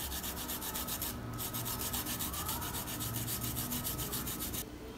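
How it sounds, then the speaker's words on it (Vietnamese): Garlic being grated on a grater, a steady, continuous rasping scrape with fast repeated strokes, close and fairly loud throughout, with no voices. "Tiếp theo chúng ta mài nhỏ tỏi nhé các bạn."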